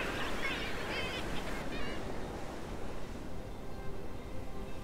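A dense chorus of seabirds calls at a coastal nesting colony on Rathlin Island, with overlapping honking cries fairly faint and steady over the wash of sea and wind.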